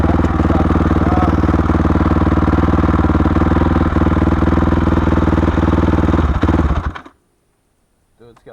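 A 2006 Honda CRF 450 dirt bike idles loud and close with a steady, rapid thumping clatter for about seven seconds, then cuts off abruptly into near silence.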